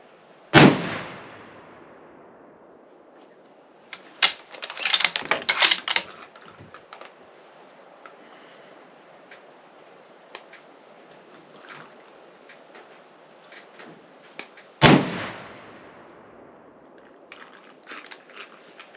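A Christensen Arms MCR rifle chambered in 7mm PRC fires two sharp, loud reports about fourteen seconds apart, each with a trailing echo. Light clicking and handling noise fills the quiet between the shots.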